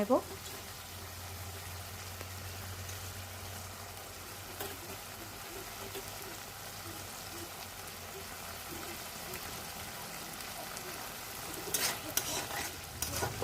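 Rice stirred and fried with spices in a pot for fish-head muri ghonto, giving a steady low sizzle and faint scraping throughout, with a brief louder clatter of stirring near the end.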